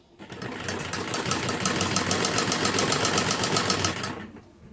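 Close and steady, a sewing machine runs a single line of stitching along the edge of a kurti neck strip, its rapid rhythmic needle clatter holding constant for about four seconds before stopping, with no talking.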